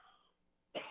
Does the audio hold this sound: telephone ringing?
no